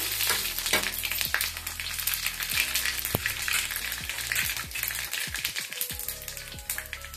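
Black mustard seeds and radhuni spices fry in hot oil for tempering, crackling and popping with scattered sharp taps and stirring scrapes over a busy sizzle.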